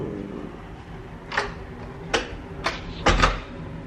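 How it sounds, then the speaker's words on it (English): Several sharp wooden knocks and clacks from a door being shut and handled indoors, arriving as four separate close impacts over a few seconds, the last one a doubled thud, with no talking. "Close my door."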